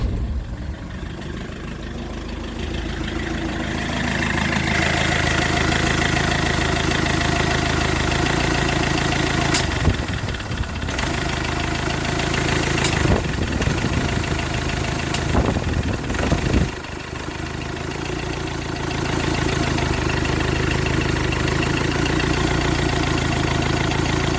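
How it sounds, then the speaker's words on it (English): An Iveco Daily van's diesel engine idles steadily and loudly nearby for a sustained stretch after a fan repair, with a few brief clunks and knocks breaking the even hum. "We'll just test it with the engine running"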